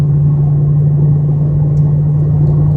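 A Range Rover fitted with a MagnaFlow 16899 exhaust drones steadily at around 65 mph, a loud continuous low engine hum and rumble with no voices over it.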